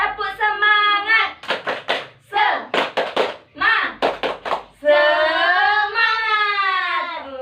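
Children chanting along with a teacher in a classroom, a rhythmic pattern of sung syllables broken by quick bursts of hand claps, followed by a long sustained vocal tone.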